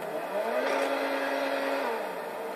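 Cheval Taipan sports car in GTA V, its engine giving a steady sustained drone with a rising then held tone, loud and close, with no talking over it.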